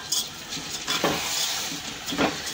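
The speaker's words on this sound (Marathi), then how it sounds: "आता याच्यात टाकून द्यायचे आणि परतून घ्यायचे मसाल्यामध्ये तांदूळ चांगले" Soaked rice is tossed into a masala and stir-fried for masale bhat, a steady close sizzle overlaid by a few bursts of scraping and stirring from a spatula in the pan.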